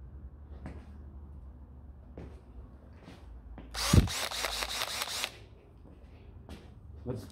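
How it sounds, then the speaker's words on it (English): A power drill whirs in a short burst of about a second and a half amid scattered clicks and handling noises while a photocopier is taken apart. "I need my drill."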